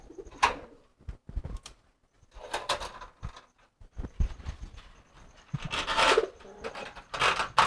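Domestic pigeons cooing in a loft, several birds calling in bursts with pauses between, fairly close, with soft wing and shuffling noises around them and no talking.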